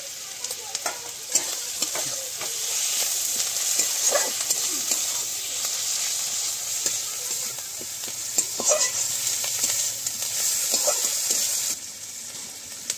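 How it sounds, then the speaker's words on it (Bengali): Salted tomatoes fry in a pan over a village clay stove for a rui fish curry, giving a bright continuous sizzle with occasional stirring scrapes, close and steady, with no talking. "টমেটোটাকে একটু কষে নেবো হালকা করে।"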